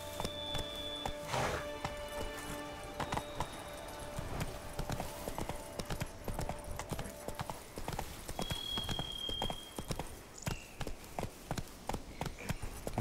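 Hooves of the horse Roach clip-clop in a steady galloping rhythm in the Witcher 3 Blood and Wine video game, close and fairly loud, with game music and ambient effects layered underneath and no talking.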